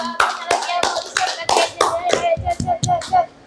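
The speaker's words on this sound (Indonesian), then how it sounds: "Tepuk tangan untuk Bu Bintang." A small group claps for Bu Bintang at a sales motivation meeting, a few uneven hand claps at close range with a voice and chatter mixed in.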